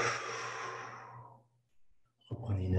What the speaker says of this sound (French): Soufflez en relâchant.